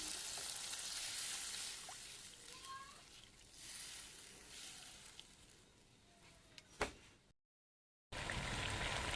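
Poppy-seed egg curry gravy (dim posto) boils vigorously in a pan after water is added to the spice paste. It makes a steady, close bubbling and sizzling hiss, with a brief sharp knock and a short dropout near the end.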